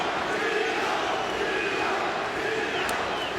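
A crowd at a Bellator MMA event in San Jose roars and cheers in a steady, distant wash of voices, with an announcer's talk running over it.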